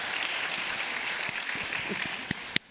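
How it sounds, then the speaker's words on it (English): Soft applause from a conference audience for four panelists at a climate and fisheries event, a distant, diffuse patter with a couple of sharper claps standing out near the end. "I'd just like a round of applause for these 4 amazing people"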